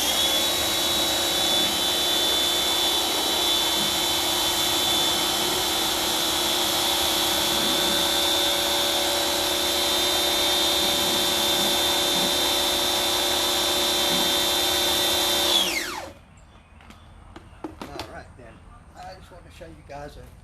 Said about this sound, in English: You just hook it up to your pressure washer. It sprays up